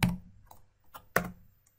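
Computer keyboard keys pressed one at a time, a few sharp clicks spread irregularly across a short quiet stretch, close and fairly faint, with a heavier tap near the end.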